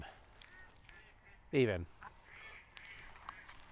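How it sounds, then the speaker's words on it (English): Ducks calling outdoors: one loud, raspy honking burst rises sharply in the middle, with fainter scattered calls before and after and a voice speaking softly around them. "Listen, the ducks agree. They're laughing. You can hear them, right?"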